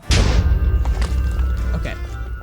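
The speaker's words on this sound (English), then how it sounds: "Gonna explode." A big explosion in the Minecraft survival game bursts in with a heavy, booming thud and rolls on as a loud rumbling roar with debris crackle over the whole short stretch.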